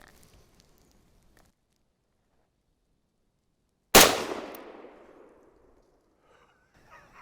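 A single sharp gunshot fired at a target rings out loud and close after several seconds of near silence, its blast decaying into a long echoing tail.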